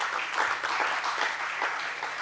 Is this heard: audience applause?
yes